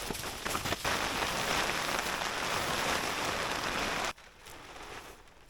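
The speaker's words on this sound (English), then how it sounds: "It started to rain." Steady rain drums on a tent tarp for about four seconds, a dense even hiss, then drops abruptly to a softer patter as the rain eases.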